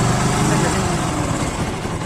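A motorcycle engine idles steadily after a timing chain repair. It runs close and fairly loud, with an even rumble throughout and no knocking.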